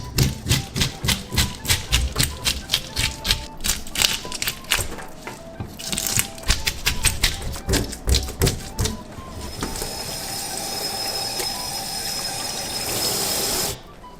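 Rapid rhythmic scraping strokes of scales being scraped off a mullet, close and crisp, repeat in bursts for several seconds, then give way to running water.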